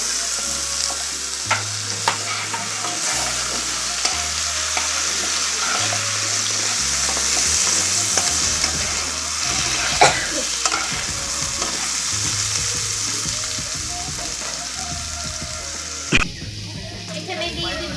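Pointed gourd (potol) frying and being stirred in a pan for a vegetarian paneer curry, a steady close sizzle running throughout with occasional clinks of the spatula.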